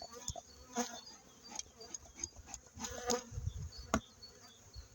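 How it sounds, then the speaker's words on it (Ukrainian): Carniolan and Buckfast honey bees buzz around close by in an apiary, wings droning and rising as individual insects pass near, with occasional soft clicks and thumps. "Миролюбиві бджоли нормально."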